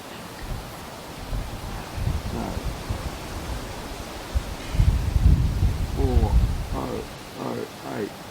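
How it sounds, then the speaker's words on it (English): Strong wind of roughly 10 to 15 mph gusts across an open long-range rifle shooting range, buffeting the microphone with a steady rumbling roar that swells louder midway, with faint voices near the end. "The wind is even pushing the target, it's wobbling."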